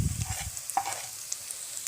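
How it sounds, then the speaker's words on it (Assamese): A low sizzle and light stirring come from salt, cumin powder, red chili powder and turmeric frying with ginger garlic paste in a pan for an Assamese brinjal sabzi. The hiss is faint and steady, with a few soft scrapes. "এইখিনি এতিয়া মই অকণমান ভাজি ল'ম"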